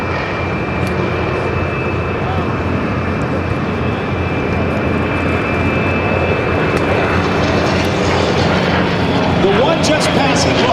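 A single-seat propeller aircraft passes at an air show battle reenactment, a steady broad engine roar sustained throughout with a voice commentating over it.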